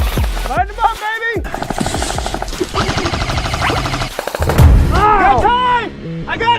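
Bursts of gunfire and shooting effects crackle through a PUBG match, with rapid shots, whooshing and whistling game sounds layered densely and loudly, and voices breaking in.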